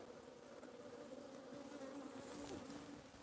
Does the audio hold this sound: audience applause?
no